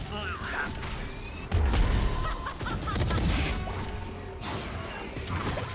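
Gunfire in the Valorant video game, with sharp bursts of shots and impacts mixed with mechanical clatter, while players talk over the action.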